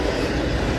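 A CSX freight train of auto racks and double-stack intermodal cars rolls past at the Folkston Funnel with a steady, close rumble of rail noise and no talk over it.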